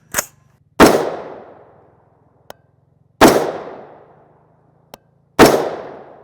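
Five sharp rifle shots from a Palmetto State Armory 10.5-inch SBR firing 5.56 M193 through a three-port muzzle brake, each a loud crack with a ringing decay, spaced a couple of seconds apart, with faint clinks between.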